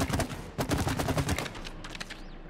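Rapid gunfire from the video game It Takes Two, a dense burst of repeated shots firing in quick succession for about two seconds, loud and close, then a few trailing shots.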